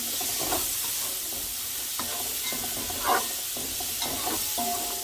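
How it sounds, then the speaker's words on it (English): Red and green peppers with a yellow onion sautéing in a pan, a steady close sizzle broken by scraping stirs, with no talking. "now I'm going to saute those"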